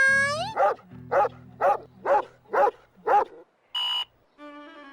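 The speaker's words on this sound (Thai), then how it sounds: "สร้อยเส้นนี้จะแสดงผลเมื่อสุนัขของเราร้องออกมา" A dog barks six times in an even, rhythmic series of close, loud woofs, followed by a couple of short electronic tones from a gadget.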